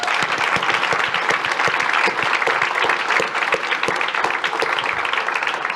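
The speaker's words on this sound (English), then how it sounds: "Huge round of applause for you guys." A conference audience gives a round of applause, dense sharp clapping sustained evenly and loudly for several seconds.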